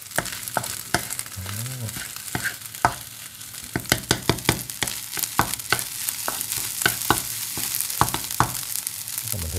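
Garlic fried rice with homemade fish sauce sizzles in a pan while a utensil scrapes and stirs in irregular sharp clacks over a steady frying hiss, close and fairly loud, with no speech.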